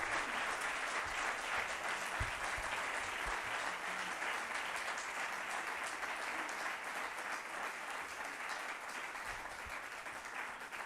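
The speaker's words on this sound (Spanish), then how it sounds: "Un aplauso." Audience applause after a presentation at an association's annual panel event, a steady wash of clapping from a large crowd heard at moderate distance, continuous and even throughout.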